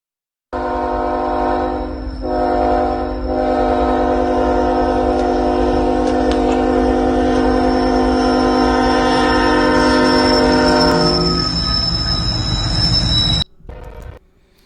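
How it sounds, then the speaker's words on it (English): A freight train passes close by on a railroad, its loud sustained horn blaring over the heavy rumble and screech of rolling wagons for most of the stretch before cutting off abruptly. "The train's not stopping, the train's not stopping."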